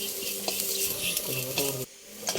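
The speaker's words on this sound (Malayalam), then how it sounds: "നല്ല വെണ്ണം ഒന്ന് മൂത്ത് വരുമ്പോഴത്തേക്ക് നമുക്ക് ഈ ഉടച്ച് വെച്ചിരിക്കുന്ന തൈരൂടെ ചേർത്ത് കൊടുക്കാം" Chilli and turmeric frying in a pan for a Kerala moru curry as beaten curd is stirred in, a close sizzle with stirring scrapes that drops away sharply near the end, with no voices.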